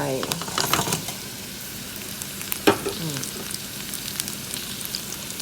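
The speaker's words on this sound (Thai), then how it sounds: "แล้วเราก็จะใส่หมูลงไป" Pork belly cut into small pieces sizzles steadily as it fries in a pot with shallots and garlic that were just sautéed over lowered heat, with louder bursts and stirring scrapes early on.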